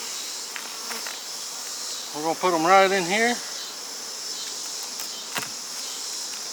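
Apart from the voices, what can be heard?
honey bees buzzing on top of combs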